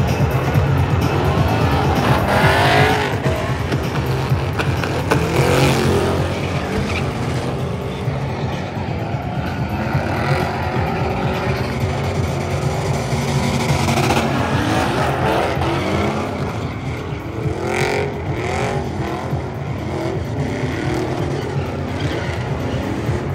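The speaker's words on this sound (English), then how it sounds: "It's about 8 trucks just driving back and forth doing burnouts constantly." About eight trucks doing constant burnouts back and forth at the SEMA show, a loud, continuous roar of revving engines and tire squeal that swells and fades as they pass, with no talk.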